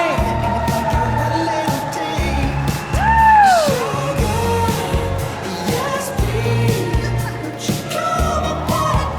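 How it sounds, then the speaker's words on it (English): Wedding reception guests applaud the parents with a loud, continuous burst of clapping, joined by yells and whoops rising from the crowd, with music playing underneath. "Let's give it a round of applause for the parents, shall we?"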